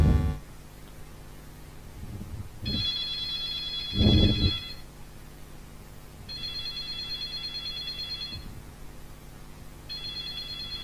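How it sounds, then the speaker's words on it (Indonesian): An Android phone rings with an incoming WhatsApp call, a bright electronic ringtone repeating in bursts of about two seconds with short gaps, along with a few soft handling thumps. "Misal untuk panggilan WhatsApp ya, kita coba panggil WhatsApp."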